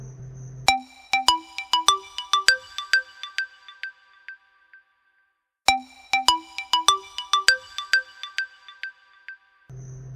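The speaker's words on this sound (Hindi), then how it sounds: "उसी दिन उसका बॉस का फोन आया" Phone ringtone of an incoming call from a boss, a bright descending melodic chime pattern that plays twice with a short pause between repetitions.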